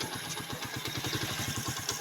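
A motorcycle engine runs steadily nearby with a rapid, throbbing mechanical putter, no voices, continuous for the whole stretch.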